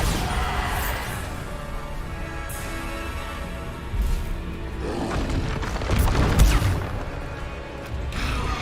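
Bombarda explosion spells cast in the video game Hogwarts Legacy. Several deep booming blasts with crackling debris rise over a busy rumbling background, coming in bursts a second or two apart.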